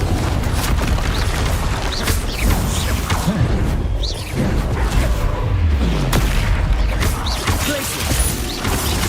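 A loud, dense barrage of magical spell blasts from the Hogwarts Legacy video game, including a Confringo explosion, with booms, crashes and whooshes layered continuously over about nine seconds.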